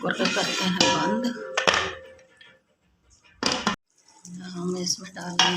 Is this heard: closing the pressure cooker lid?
yes